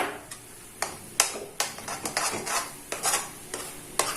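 A spoon scrapes and stirs bread rusk halwa with cashews and ghee in a pan, giving repeated crisp strokes every half second or so with a faint sizzle beneath.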